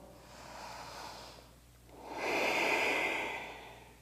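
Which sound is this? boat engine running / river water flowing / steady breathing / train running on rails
steady breathing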